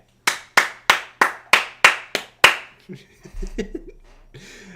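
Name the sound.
hand clapping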